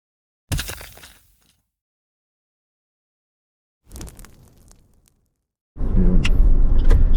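A car cruising along a highway on a road trip to Bolinao, heard as broadband road and engine rumble in three separate bursts with silent gaps between them; the final stretch is the loudest and most sustained.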